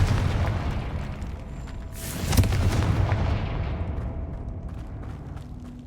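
A Confringo spell in the Hogwarts Legacy video game bursts into a loud, booming blast that rolls out, then a heavy rumble follows and slowly fades with no speech over it.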